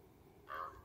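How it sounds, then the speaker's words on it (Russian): A single short, hoarse raven call sounds faintly from a distance in a quiet forest. "В принципе, это, скорее всего, ворон."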